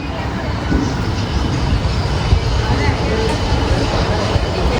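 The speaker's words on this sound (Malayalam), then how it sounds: "നമ്മളിവിടെ കോയമ്പത്തൂർ ജംഗ്ഷൻ റെയിൽവേ സ്റ്റേഷനിൽ കയറിയിരിക്കുകയാണ്." A train at Coimbatore Junction railway station gives a steady, loud broadband rumble that fills the whole stretch, with faint voices mixed into the station noise.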